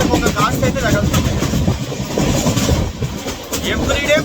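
A passenger train, the Vivek Express, rolls through hilly country near Puttur with a steady, loud rumble and rattle of carriages throughout. Someone talks over the noise.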